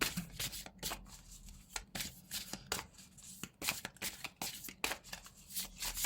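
Tarot and oracle cards being shuffled by hand, a steady run of crisp riffling and flicking bursts close up, with brief pauses between passes and no talk.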